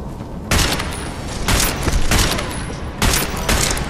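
Video game gunfire in bursts of rapid shots, loud and close, with three or four bursts separated by brief pauses.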